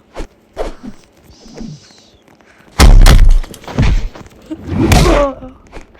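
Punches landing in a boxing video game, heard as a few sharp close thuds followed by heavy, loud blows and impact bursts, with game effects between them.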